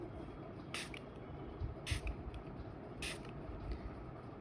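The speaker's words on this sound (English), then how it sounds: "this nozzle actually sprays the way the actual toner should be" Bellavita Organic rosewater toner spray bottle fired three times, each a short hissing puff of mist, close and faint over a quiet room.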